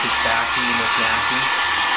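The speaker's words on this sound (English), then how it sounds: "That hair softener looks like a blow dryer." A hair dryer blowing loudly and steadily up close, its motor whine and rushing air continuous throughout, with no voices.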